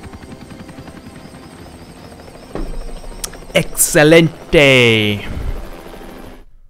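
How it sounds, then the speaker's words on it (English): A helicopter in the Hitman video game, set in Paris, whirs with a low steady hum before loud bursts of game sound effects and a swelling engine roar, with a brief spoken in-game voice line. "We're on the helicopter and we're away."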